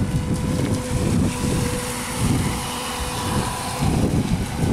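A Traxxas Spartan RC boat cruises slowly on open water, its motor a low steady drone mixed with gusty wind buffeting the microphone, fairly loud and continuous with no talking.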